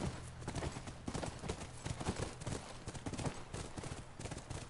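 Rapid clip-clop of horse hooves in The Last of Us Remastered, steady and rhythmic, fairly close, with a faint background hum and no voices.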